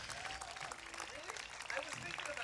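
A live audience claps for a folk band at an outdoor park concert. The applause is brief and moderately loud, and someone speaks over it.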